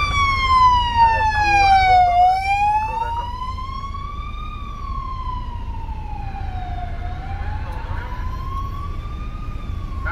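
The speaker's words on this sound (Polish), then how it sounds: "karetka na bombach leci" An ambulance siren wails as it speeds along a jammed elevated highway near the port of Gdynia, its slow rising and falling tone loud and clear over a low rumble of road traffic.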